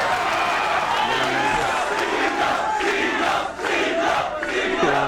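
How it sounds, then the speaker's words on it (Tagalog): A battle rap crowd roars and shouts in reaction to a punchline, a dense, loud wall of cheering and yelling voices sustained throughout. "yung mga crowd reaction na yan"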